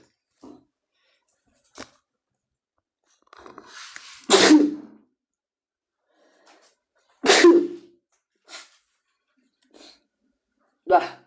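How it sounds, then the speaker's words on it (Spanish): A single loud sneeze bursts out at close range, followed by a second sharp sneeze a few seconds later, with brief sniffs and small breathy sounds scattered around them and no talking. "Ah, genial, quiero estornudar."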